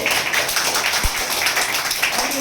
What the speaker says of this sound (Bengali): হাততালি হবে সবাই জোরে।